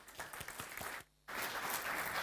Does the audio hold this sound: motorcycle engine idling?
no